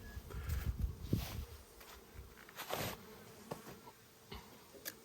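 Honeybees buzz around an open hive during Australian beekeeping, a steady insect drone with individual bees passing near and away, faint and outdoors with no talk.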